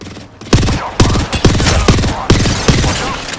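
Gunfire in the video game Apex Legends: a string of loud, sharp close shots in quick irregular bursts, with brief gaps between them.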